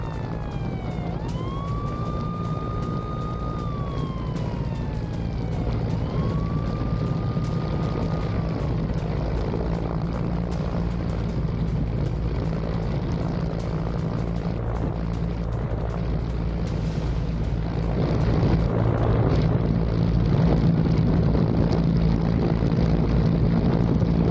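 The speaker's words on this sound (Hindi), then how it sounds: "तो देखिए किस तरह से हेलीकॉप्टर लैंड करता" A helicopter lands on a cargo ship in the Red Sea during a hijacking by Houthi rebels, its rotor giving a steady, loud droning roar throughout, with rising and falling siren-like wails near the start.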